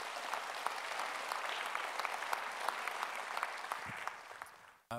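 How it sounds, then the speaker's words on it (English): Audience at a robotics awards ceremony applauding sponsors, a sustained, even burst of clapping from many hands that fades out near the end before a brief cut-off. "So please give a big hand of applause for the sponsors for this prize."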